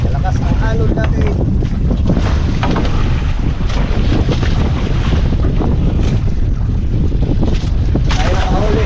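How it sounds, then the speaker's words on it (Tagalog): Loud, constant rush of wind and choppy waves slapping against a boat, heavy and close, with wind buffeting the microphone throughout. "malakas ang alon natin."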